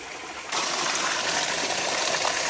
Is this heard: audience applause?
no